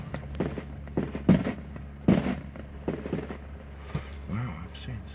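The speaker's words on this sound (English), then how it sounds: "big firework" Big fireworks explode at a fairgrounds show, with several sharp booms at uneven intervals over the crowd's background murmur and occasional voices.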